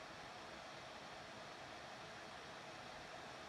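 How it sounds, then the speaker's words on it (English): Steady, quiet broadband whir of a Minisforum mini PC's cooling fan, a constant airy hiss that runs unchanged throughout with no voices. "The fan noise you're hearing is from the PC itself."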